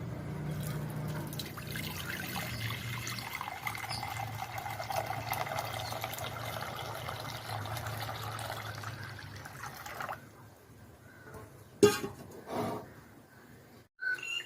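Beetroot juice poured into a hot pan while making beetroot halwa, a steady liquid pour and sizzle running for about ten seconds, then a few sharp clinks and knocks as the pouring ends.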